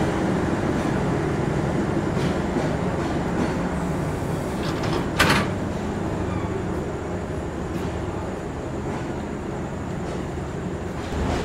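The Silk City Express intercity train pulls into Rajshahi railway station running very late, a continuous close rumble with a sharp metallic clank about midway.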